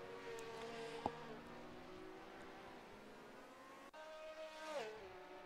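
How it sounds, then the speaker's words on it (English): Engines of 1967 Formula 1 V8 and V12 cars in a racing sim game whine through a fast kink, faint and distant, with pitch rising and falling as cars pass and shift. "listen to those engine noises as they head through the kink there"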